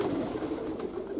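Pigeons cooing at a communal breeding farm, a steady chorus of soft, low throaty coos layered together close by, filling the air without pause.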